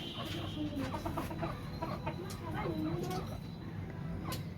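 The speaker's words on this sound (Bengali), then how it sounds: "এখানে কিছু দেশি মুরগি আছে এই যে ছোট্ট একটি খামার" Domestic chickens cluck steadily in a small rooftop coop, with a busy backdrop of other birds and someone talking over them throughout.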